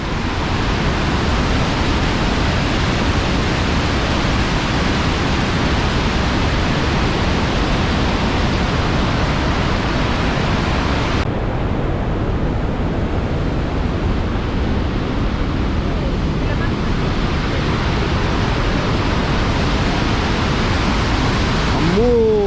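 Rhine Falls in Switzerland heard from a viewpoint: a loud, continuous, dense roar of falling water that stays close and steady throughout.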